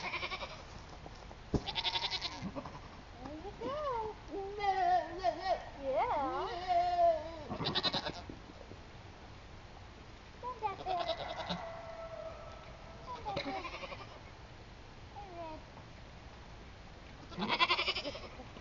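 Goats in a barn at evening feed time bleat repeatedly, their wavering calls coming in scattered bursts, some near and loud, others softer, with low background noise throughout.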